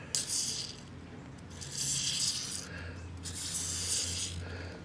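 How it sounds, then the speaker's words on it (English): WD-40 Specialist Spray and Stay Gel Lubricant, a no-drip formula, sprayed in three hissing bursts, each lasting about a second, close and moderately loud over a low steady hum, with some outdoor background noise between bursts. "I'll put a little of this WD-40 Specialist Spray and Stay Gel Lubricant, no drip formula."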